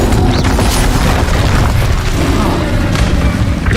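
An Incendio fire spell in Hogwarts Legacy erupts in a loud, dense roaring burst of flame that rumbles on with crackling booms, continuing without a break.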